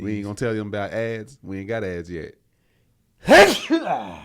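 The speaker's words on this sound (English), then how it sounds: "I'm about to sneeze." One sharp, loud sneeze bursts out in a podcast studio after someone talks and a brief silence, followed by a short breathy trailing sound.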